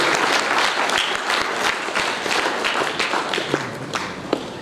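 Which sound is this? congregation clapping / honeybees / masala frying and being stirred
congregation clapping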